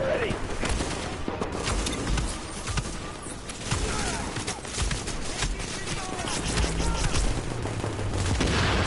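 Rapid bursts of video game gunfire crackle densely and almost without pause, loud and continuous, with a player talking in the background.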